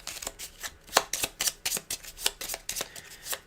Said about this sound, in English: And then we have to shuffle these cards into the deck.